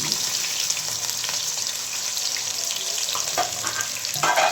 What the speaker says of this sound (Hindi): ऑयल हो गया गरम, अब मैं डालूंगी प्याज।